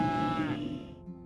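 A single cow moos in a long, low, drawn-out call that slowly falls and fades, heard close and clear with no talk over it.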